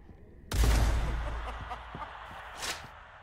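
A loud burst of gunfire in the video game Blood West erupts suddenly, followed by a few scattered sharper shots and a brief swell of noise, with no talking.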